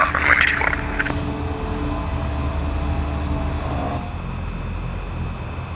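A Cessna 172 Skyhawk in X-Plane 11 rolling for takeoff, a steady droning engine and propeller roar with brief radio-like bursts at the start, holding constant and easing slightly toward the end.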